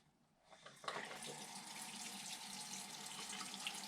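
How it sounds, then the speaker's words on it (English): A tap turns on and water runs steadily into a sink as hands are washed under it, a constant splashing rush that starts after a brief quiet moment and stays even throughout. "Next thing I'm going to do is wash my hands really good."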